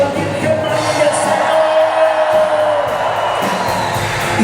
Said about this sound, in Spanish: Dale un grito de júbilo a la Virgen María